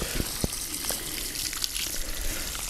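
Water poured steadily to soak the ground around a newly transplanted blue spruce in autumn, a continuous close gushing and splashing stream with a few sharper drips.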